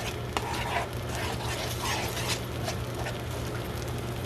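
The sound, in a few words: mixing ingredients together in a bowl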